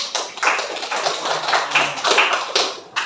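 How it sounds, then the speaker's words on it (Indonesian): A classroom of students claps for a group presentation, uneven rhythmic bursts of hand claps that rise and fall in a few quick waves, fairly close and loud. "Tepuk tangan untuk"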